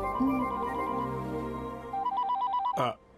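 A telephone rings with an incoming international call, a repeating electronic ringtone of warbling beeps that ends in a sharp rising chirp, close and clear with no talking.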